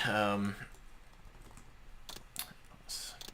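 Computer keyboard keys tapped while playing Legacy of Kain: Soul Reaver, giving a few faint, scattered clicks and short bursts after a brief moment of speech.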